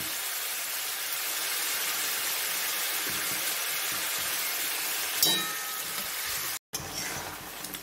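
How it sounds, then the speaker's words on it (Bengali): Boiled raw figs sauté for a vegetarian fig curry, giving a steady, even sizzling hiss from the pan. A brief clink of a utensil is heard near the end, and no one speaks. "আমি ডুমুরটা দিয়ে দিয়েছি, ডুমুরটা দিয়ে কষছি।"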